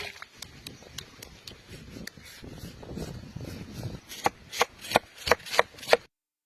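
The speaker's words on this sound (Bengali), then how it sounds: "প্রথমে আমরা বোটা থেকে আমগুলো আলাদা করে নিব" Green, unripe mangoes are snapped off their stalks by hand, starting with soft rustling and handling and ending in a run of crisp, close snaps that come faster toward the end.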